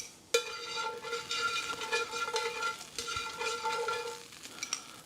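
Fresh garden onion sizzles steadily in hot oil in a pan, with a sharp start as it hits the pan and continuous close frying and stirring noise throughout, no voices.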